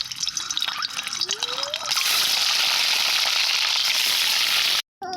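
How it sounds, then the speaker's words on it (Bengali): Eggs drop into hot oil in a wok and set off a sudden loud, hissing sizzle that stays steady for about three seconds before a brief cutout, after quieter clinks and drips. "ডিমগুলো আমি ভেজে নিচ্ছি"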